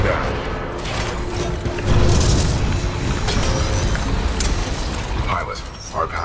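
Explosions and heavy mechanical clanking in the video game Titanfall 2, with deep booming bursts, grinding machinery and metallic ratcheting layered into a loud, continuous din, punctuated by a stronger blast around the middle.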